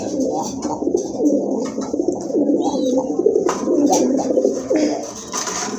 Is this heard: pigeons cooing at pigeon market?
yes